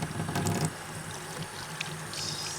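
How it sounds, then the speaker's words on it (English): Cold water runs from a tap onto hands at a sink, a steady close splash and hiss that is louder at first and then settles to a softer flow, with no talking. "Step one, turn the cold water on."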